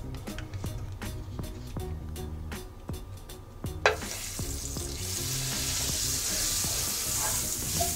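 Butter sizzles in a hot pan before buns go in to toast; rhythmic clinks and scraping lead into a sudden loud burst of frying that holds as a dense, steady hiss, with no talking.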